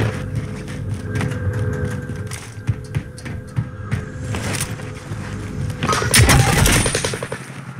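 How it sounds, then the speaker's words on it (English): Video game gunfire rings out in rapid automatic bursts and single sharp shots, loud and close, with a heavier burst of fire near the end. "Greg, what are you shooting at?"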